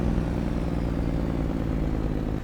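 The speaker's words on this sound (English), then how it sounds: "Those are the jake brakes on the truck." Jake brakes on a Mack Superliner truck in Farming Simulator 22 give a steady, loud, low chattering engine rumble that holds throughout and eases off at the very end.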